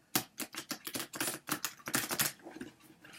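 Rapid riffling card shuffle, a quick burst of crisp flutters and snaps repeating in short bursts, close and fairly loud with no talking.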